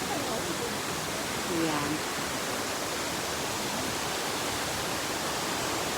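Steady, broadband roar of Taiki waterfall heard from its top, constant and enveloping throughout, with a voice speaking briefly over the rushing water.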